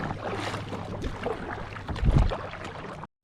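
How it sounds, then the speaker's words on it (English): Kayak paddling on open water during a fishing outing, with steady wind and water wash throughout and a few louder splashy paddle strokes near the end before a brief cutout. "Still paddling. Not there yet."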